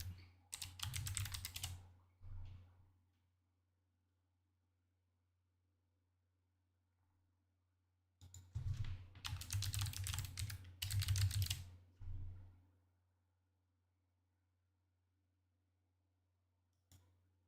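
Computer keyboard typing comes in two close, brisk bursts of rapid clicking separated by several seconds of near silence, with a steady low hum underneath throughout.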